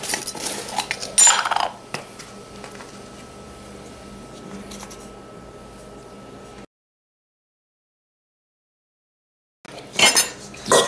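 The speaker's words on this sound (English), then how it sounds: "Just give that a good stir." Flour, baking powder and baking soda stirred in a bowl, spoon scraping and clinking against the sides for several seconds, a gap of silence, then a brief burst of louder scraping and clinks.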